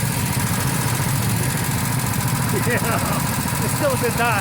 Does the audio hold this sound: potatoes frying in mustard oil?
no